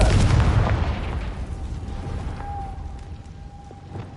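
Confringo blasting spell from the Hogwarts Legacy video game, a loud booming explosion at the start that rumbles and fades into a lingering tonal hum with small crackles.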